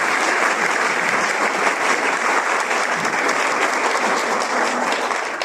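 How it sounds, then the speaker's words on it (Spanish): A dense, loud wash of audience applause fills a university research week event, sustained and even from start to finish. "Un aplauso otra vez por esta gran noticia"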